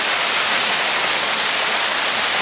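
Water rushes loudly into a river channel near the Meguro River in Tokyo, a constant close roar of flowing water with no pauses.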